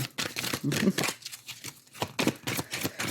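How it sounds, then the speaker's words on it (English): Tarot cards being shuffled by hand, giving rapid, close riffling and ruffling bursts in an uneven rhythm that fill the whole stretch, with soft talking faintly underneath. "don't be surprised if the shuffle takes a little longer"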